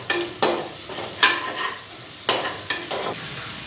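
Fish frying in a pan on a home stove gives a steady sizzle, broken by several sharp scraping clatters from stirring, fairly loud and close with no talking.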